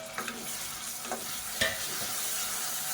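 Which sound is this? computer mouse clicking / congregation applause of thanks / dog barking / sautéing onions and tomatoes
sautéing onions and tomatoes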